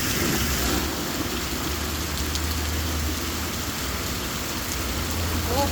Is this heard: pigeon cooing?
no